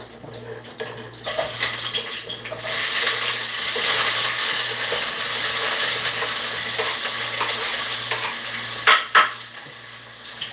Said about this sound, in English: These green seasons, we're gonna start frying them up